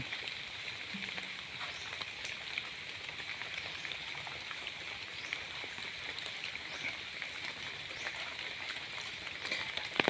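Steady rain pattering down on a surface, a dense continuous hiss of drops with no voices, holding even throughout.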